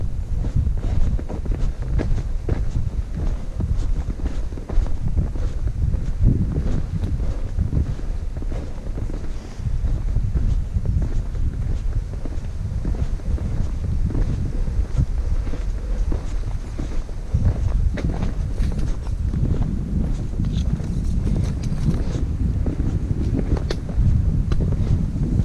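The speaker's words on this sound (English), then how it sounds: "It's gonna be really windy, so I'm not sure if you guys will be able to hear me." Strong wind roars and buffets the microphone continuously at a vista on Table Mountain in New York's Catskills, a loud low rumble with gusty swells and no voices.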